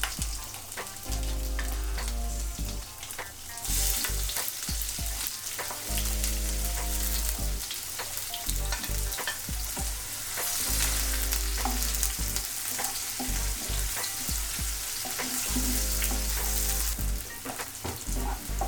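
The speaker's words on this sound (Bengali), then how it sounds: "পেঁয়াজ রসুনটা একটু ভেজে নিব, লাল লাল করে ভাজবো না" Chopped onion and garlic fry gently in a pan for a taro-leaf (kochu shak) dish, giving a steady, moderate sizzle that runs throughout under rhythmic background music, with no one talking.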